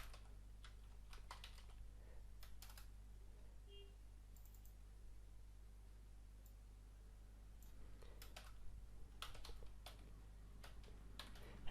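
A channel name being typed on a computer keyboard: quiet, scattered bursts of light key clicks over a low steady hum, with short pauses between the runs of keystrokes.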